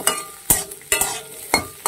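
Onions frying in a pan with a spatula, several sharp scraping stirs at an even rhythm over a low sizzle, close and clear with no talking.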